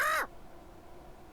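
A bird in the video game Deponia gives one short, sharp caw at the start, and then the sound drops to near silence.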